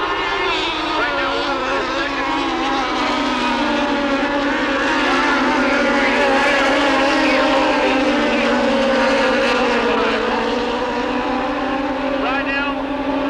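Mini sprint race cars from the American Mini Sprint Association pack roaring around a track in Terre Haute during a 1998 heat race, a loud continuous engine drone with shifting pitch as the field passes, under a commentator's talk.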